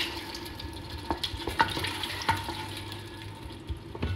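Tomato sauce sizzles steadily in a pan after a small splash of water goes in, while scattered clicks and light stirring knocks sound close by. Nobody speaks.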